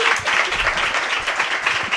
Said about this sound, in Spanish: por favor, un aplauso para caldear un poquito el ambiente